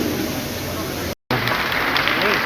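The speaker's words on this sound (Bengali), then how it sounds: "তুমুল করতালির মাধ্যমে আমাদের এই হলঘর রঞ্জিত হয়ে ওঠে" Audience applause filling a hall at a BJP organisational event in Dharmanagar, a steady dense wash of clapping close and loud, broken by a brief dropout midway.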